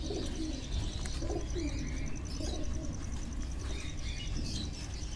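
A pigeon held in the hand gives soft, repeated low coos close by, over a steady background hum and faint chirps, with no talk.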